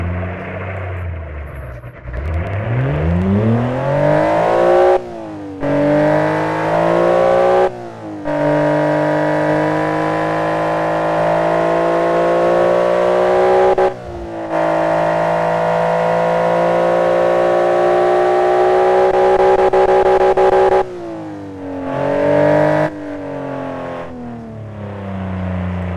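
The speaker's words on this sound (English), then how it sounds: "let's fire up this engine and enjoy the noise of it" A car engine is started and revved repeatedly, loud and close, with its pitch swelling and falling in several long revs separated by brief drops to idle or cut-offs.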